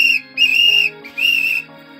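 A loud, shrill whistle is blown in a cave as a call for help: two long blasts separated by a short gap, close and clear, with no talking.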